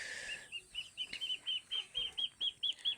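Neighbour's chickens wandering into a backyard, giving a steady series of short, sharp clucks and chirps about every quarter second. They sound fairly close and clear, with no talking.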